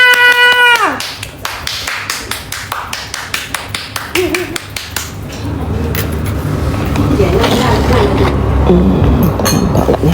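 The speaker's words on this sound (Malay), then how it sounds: "Berikan tepukan pada Mak Semah." A small group claps in a quick, even rhythm of taps near a home gathering, then the sound turns into a busier, denser clatter with voices and background noise underneath.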